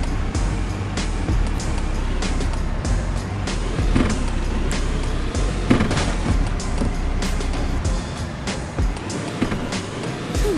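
Game car from Blox City Wars driving steadily for the whole stretch, a continuous low engine-and-road rumble with occasional bumps and thuds, fairly loud and with no talk.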